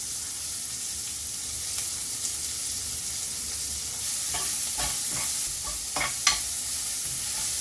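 Slit green chillies drop into hot oil with sliced onion and radish, frying with a continuous close sizzle and hiss, then brief stirring scrapes and clatters toward the end.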